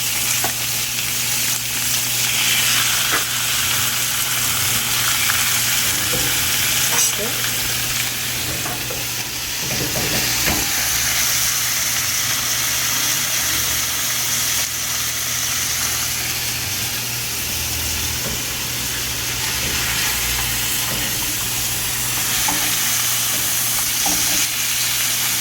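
Small fish fillets fry in a pot, giving a continuous, fairly loud sizzle and crackle that holds steady for the whole stretch with no voices.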